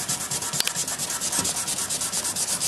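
Steady, rhythmic rubbing strokes on cured automotive clear coat, working down paint nibs, a continuous close scratchy abrasion pulsing with each back-and-forth pass and no talk.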